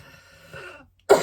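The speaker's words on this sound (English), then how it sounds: "Excuse me, horrible cough." A single harsh cough bursts out near and loud at the end, after a stretch of murmured low voice.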